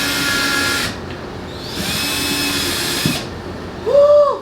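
A power drill drives screws into a wall shelf in two whirring bursts, loud and close, with brief pauses between and a short high squeal at the end.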